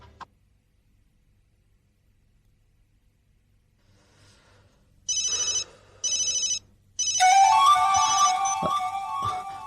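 A cell phone ringtone rings in a tense crime thriller scene, sounding in short repeated bursts after near silence and then swelling into a sustained melodic ring mixed with music, with no talk.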